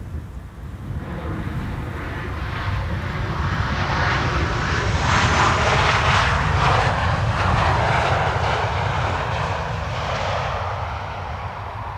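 A fixed-wing airliner lands at Amsterdam Schiphol Airport on a sunny, crosswindy day, its engine roar broad, steady and loud throughout, swelling slightly mid-clip, with some wind noise on the microphone and no talk.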